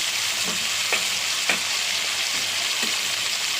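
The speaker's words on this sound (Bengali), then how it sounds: "ভালো করে মশলাটা কষিয়ে নেব।" Onion paste with ginger, garlic, a small tomato and a splash of water fries steadily in a pan, a dense continuous sizzle broken by a few soft scrapes and clinks of stirring.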